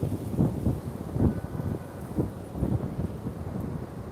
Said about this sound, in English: The wind, the breeze, beauteousness.